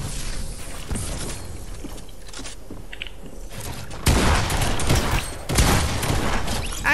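Gunfire in the video game Fortnite, bursts of shots and mechanical clatter, with two loud, dense volleys in the second half standing out over a quieter stretch of softer game sounds.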